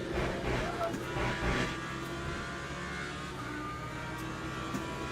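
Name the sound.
race car engine in Le Mans Ultimate video game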